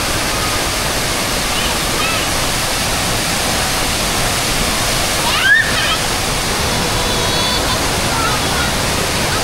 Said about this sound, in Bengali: পানির ঝর্ণাটা কিন্তু মাশাআল্লাহ অনেক সুন্দর লাগছে